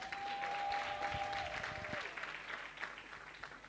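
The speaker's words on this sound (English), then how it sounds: "a round of applause" Studio audience applause during a live-streamed news show, a steady close round of clapping lasting several seconds.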